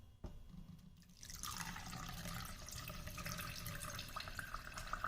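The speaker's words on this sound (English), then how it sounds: "I hope I can pour this without it dripping everywhere." Computer coolant pours through a filter, a faint trickle and drip that swells into a steady splashing stream after a quiet start.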